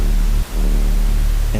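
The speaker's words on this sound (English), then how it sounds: "the pink noise is giving you a very even response" A pink noise test signal plays as a loud, dense, even hiss across the whole range, broken by a brief dip just before the midpoint, then continuing steadily.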